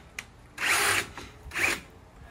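A power drill with a wobbling chuck drives a screw into composite cladding on steel stairs, letting out two short whirring bursts close by.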